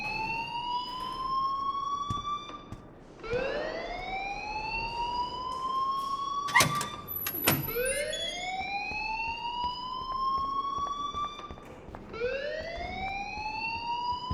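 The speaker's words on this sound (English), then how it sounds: "please turn off that alarm since that's your job" A school fire alarm in the video game Life is Strange wails in repeated rising electronic sweeps, loud and continuous, with a couple of brief clattering hits partway through.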